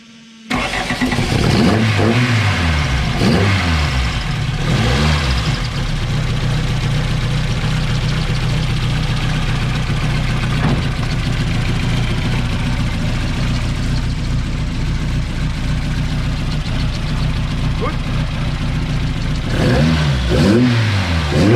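Volkswagen Bi G60 16-valve supercharged engine, recorded close, idling roughly with several sharp revs near the start, one brief blip midway and another burst of revving at the end.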